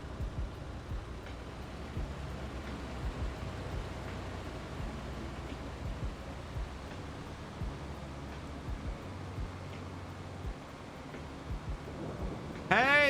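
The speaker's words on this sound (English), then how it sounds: "It's raining." Rain in the video game Farming Simulator 22 on a farm map, a steady broadband hiss with low rumbling underneath that lasts throughout at an even level, with a brief louder burst at the very end.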